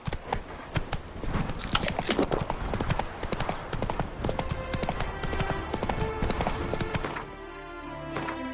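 A horse named Roach walks with steady, close clip-clopping hooves that continue for most of the stretch, then fade into quieter ambience near the end.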